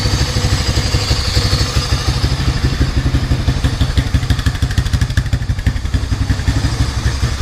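A Honda 300 engine running steadily with a rapid, rattly putter and some clatter, loud and close, no voices.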